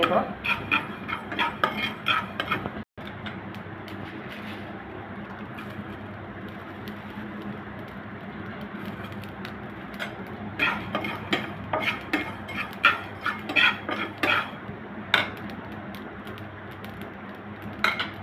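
A spoon scrapes and clinks against a metal pan in irregular bursts as mustard seeds and panch phoron fry, over a low steady background, with a few sharper knocks along the way.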